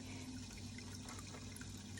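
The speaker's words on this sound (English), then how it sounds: "I have to put more water so that the pump will circulate." Water pours steadily into a home fish tank to top it up for the pump, a faint, continuous splashing wash over a low mechanical hum.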